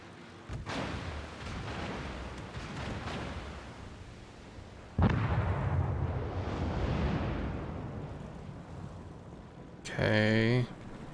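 Heavy explosions strike the battleship Nagato in a naval video game: a deep rumbling blast, a second larger boom that roars on for several seconds, then a harsh mechanical burst, with voices talking over it.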